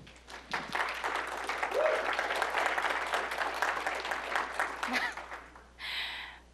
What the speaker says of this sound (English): So let's give Heather a round of applause.